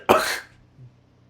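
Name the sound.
cough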